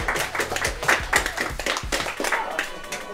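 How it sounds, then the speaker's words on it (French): Audience applause at a competition prize moment, a burst of scattered hand claps, close and moderately loud, with a few voices mixed in. "Applaudissez quand même."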